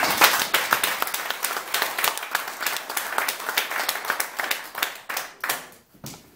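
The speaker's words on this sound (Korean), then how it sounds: "우리 신원식 장군님한테 다 같이 박수 한번 드리겠습니다." An audience at a formal gathering of Korean high school alumni claps together for a retired army general, a steady patter of many hands that thins out and fades near the end.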